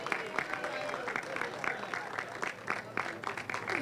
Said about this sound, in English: Let's give them a second round of applause.